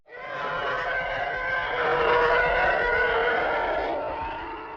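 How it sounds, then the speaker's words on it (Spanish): A Star Wars TIE fighter sound effect gives a sustained, shrieking roar that swells and holds for several seconds before fading slightly, heard alone with no talking. "Un caza TIE suena así."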